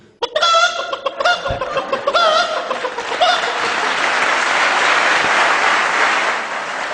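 A man imitates a hen cackling after laying an egg with a few loud, close squawking clucks, then an audience breaks into sustained applause that fills the rest of the clip.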